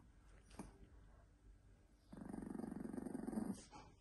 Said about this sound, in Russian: Что ты рычишь-то?